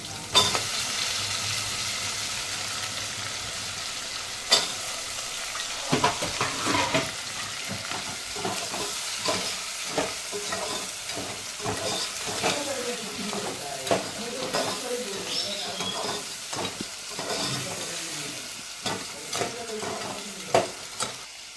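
Freshwater crabs fry in a pan for a Malvani-style crab curry, a continuous low sizzle broken by frequent scraping and clacking as a utensil stirs them, steady and close for about twenty seconds.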